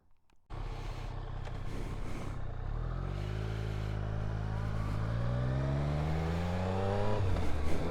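A 2022 Triumph Street Triple RS motorcycle fires into a loud, close engine note after a brief quiet moment, then accelerates through the hills with a steadily climbing whine and a shift near the end.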